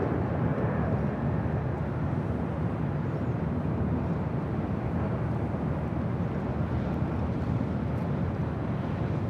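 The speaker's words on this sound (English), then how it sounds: "you see KLM, the Dreamliner, now heading up here for a north side takeoff" A KLM Boeing Dreamliner taking off on the north side at LAX, heard as a steady, broad roar of jet engine noise with some wind rumble, constant in loudness with no talking.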